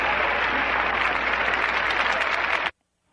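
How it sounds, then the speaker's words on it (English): An audience breaks into applause, a dense, loud wash of clapping that holds steady for nearly three seconds and then cuts off abruptly into silence. "The crowd has applauded because you are right."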